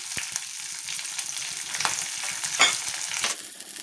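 Green chillies, cumin seeds and curry leaves frying in a little oil in a pan, with a close, crackling sizzle broken by sharp pops and stirring scrapes, alone without talk.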